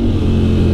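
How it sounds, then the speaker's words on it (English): A Ducati Panigale with a full exhaust system revs hard close by, a loud, thick burst of engine roar, brief and alone. "Nothing wakes you up in the morning like a bloody Panigale with a full system on."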